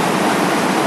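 Floodwater rushing through a street in Jacona, Michoacán, a loud, steady, dense roar of water that fills the whole moment without a break.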